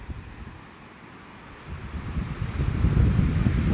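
Wind buffets the microphone on an open, clean beach beside a hotel, and waves wash in and build louder toward the end, a steady rushing surf with no talk.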